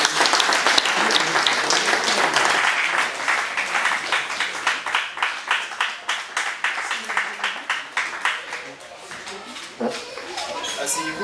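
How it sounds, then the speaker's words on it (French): Studio audience applauding and cheering on a celebrity talk-show set, dense clapping that thins into distinct rhythmic bursts toward the end, with a voice occasionally over it. "Public, on applaudit toujours."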